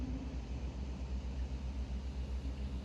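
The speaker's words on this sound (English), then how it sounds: "Sorry about the noise, but I'm right under the street" Steady low rumble of street traffic passing overhead, heard from beneath the street, a muffled continuous drone with no distinct vehicles or voices.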